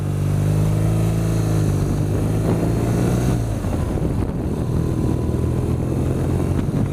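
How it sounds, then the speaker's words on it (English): A BMW R nineT Racer's boxer twin engine revs up, its throaty note rising steadily then breaking into a rougher rumble, loud and close with no talk. "Feel the bike pulling to the right when you rev it because of the nature of the Boxster engine"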